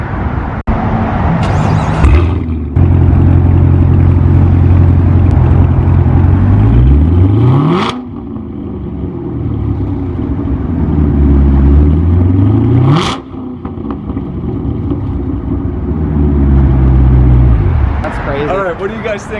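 BMW 2020 S1000RR M motorcycle with a full exhaust system starting up and revving loudly, several sharp rev sweeps rising and falling over a steady rumbling idle, close by.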